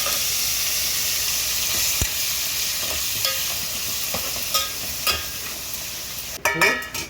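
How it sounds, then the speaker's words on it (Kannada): Fenugreek leaves sizzle in hot oil tempering for a buttermilk curry, a steady close hiss with occasional soft stirring taps, ending in a brief clatter of a utensil against the pan. "ಒಗ್ಗರಣೆ ಆದ ತಕ್ಷಣವೇ ಅದಕ್ಕೆ ಮೆಂತ್ಯ ಸೊಪ್ಪನ್ನ ಹಾಕಬೇಕು"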